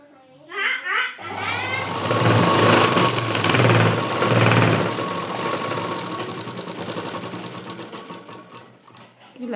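A sewing machine stitches fabric lining in a fast, loud, steady mechanical whirr up close. A voice speaks briefly just before it starts, and the stitching slows into separate pulsing strokes near the end.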